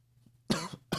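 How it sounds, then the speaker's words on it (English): A person with a lingering cough of about two weeks coughs twice, close and fairly quiet, against near silence. "I've had this lingering cough for like 2 weeks"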